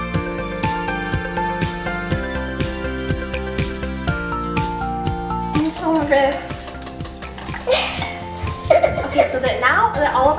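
Eggs and seasoning are whisked in a bowl, giving quick rhythmic clinking strokes against the sides, then looser scraping and clatter, with a voice talking over it.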